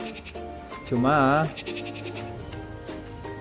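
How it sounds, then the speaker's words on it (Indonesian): A goat in the Albion Online video game gives one loud, wavering bleat, close and clear, in the middle of a quiet moment, with a brief voice speaking just before. "Satu kandang isinya 9 ekor kambing ya,"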